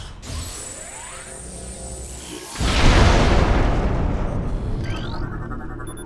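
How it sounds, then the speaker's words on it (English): Super missile fired and exploding in the Metroid Prime Remastered video game: a short whooshing launch, then a loud booming blast that rumbles on for several seconds before a rising electronic tone. "There's something here that we need to switch to our super missiles."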